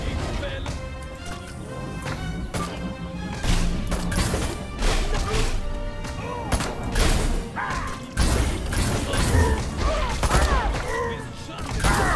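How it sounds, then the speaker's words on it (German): In Destroy All Humans 2, small weapon shots pop off in quick bursts with crashing impacts and mechanical clatter, loud and busy, while a voice talks over the action. "ich kann auch einfach nur draufdrücken, um kleine Schüsse abzufeuern"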